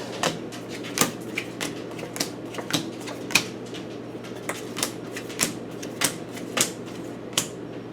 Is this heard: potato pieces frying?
no